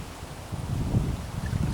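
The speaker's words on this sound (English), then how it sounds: "and it's windy." Steady wind gusting outdoors on a cold day, a low rumbling rush that swells and buffets a nearby microphone continuously, with no talking.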